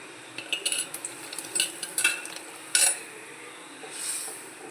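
A metal utensil scrapes and clinks against a pot as fish curry is stirred, a series of short irregular strokes over a low simmering hiss.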